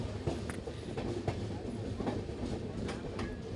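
Electric locomotive train running at speed on an electrified line between Chennai and Ongole, a steady rumbling rail roar with faint wheel clicks throughout, heard close from on board.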